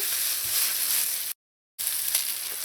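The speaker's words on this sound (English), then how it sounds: "Now add in your ketchup and mix that in." Ketchup and tomato paste stirred through a sizzling pan for Trinidadian pastelle filling, a steady close hiss of frying broken by a brief total dropout midway.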